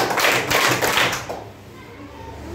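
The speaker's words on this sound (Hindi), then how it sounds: "पांच ताली" A group of children claps in a classroom listening game, giving about five quick, loud claps together in an even rhythm, followed by a quieter room.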